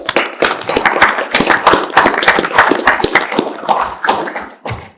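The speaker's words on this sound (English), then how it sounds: "Let's give them a big round of applause." Applause at a city commission meeting, loud and close with a smaller group clapping in uneven, sharp bursts, briefly dipping near the end before picking up again.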